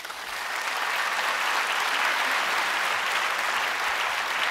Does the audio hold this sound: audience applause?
yes